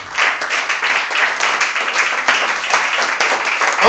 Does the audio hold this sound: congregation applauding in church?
yes